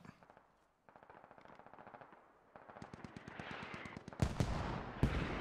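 Rapid automatic gunfire in the military shooter game Squad, long bursts of rattling shots that grow louder and denser, with a couple of heavier booming impacts near the end.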